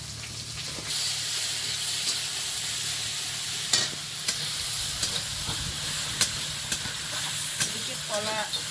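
Potatoes fry in a little oil in a pan, a steady close sizzle with a low hum beneath and repeated sharp scraping and clinking of a spatula stirring through the pan.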